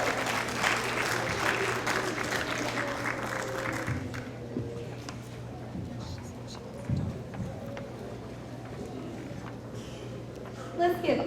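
Audience applause for fifth-grade graduates at an elementary school celebration: dense, close clapping for about four seconds, then fading into room murmur and scattered noise.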